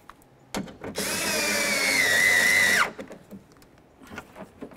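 A power drill tightens a screw on the front window regulator of a 1999-2007 Chevy Silverado, one steady loud whir lasting about two seconds with rising pitch, framed by small clicks and handling noises.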